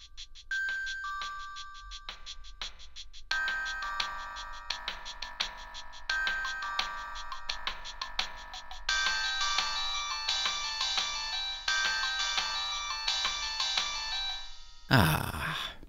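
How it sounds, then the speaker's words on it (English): A bright electronic ringtone, Samsung's Ringer 1, plays from a 2002 Samsung SPH-i500 PalmOS flip phone, a repeating melodic chime pattern, clear and fairly loud, growing fuller midway before cutting off abruptly. "assigned them a custom ringtone, such as the best manufacturer ringtone of all time"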